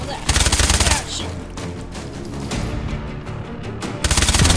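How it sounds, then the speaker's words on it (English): Rapid SMG bursts boosted by quad damage in the VR shooter H3VR, two dense loud volleys of fast automatic fire separated by a brief pause. "Quad damage. Very useful with an SMG."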